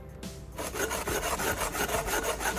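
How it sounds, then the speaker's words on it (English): Rapid, rhythmic abrasive scraping of sandpaper rubbed back and forth around a drilled hole in the bottom of an aluminum can, close and steady after a brief start. "sanding the area around the drilled hole on the bottom of the can"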